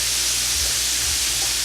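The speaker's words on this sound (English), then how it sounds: "it's bubbling away nicely, frying really well" A constant broadband sizzle with a low rumbling undertone of chicken breasts pan-frying in hot oil, steady and close with no voices.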